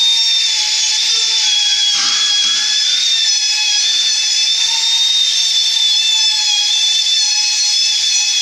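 A power drill reams holes in a car trunk lid while fitting a CSL ducktail spoiler, a steady high-pitched whine running continuously and loudly with no talk over it.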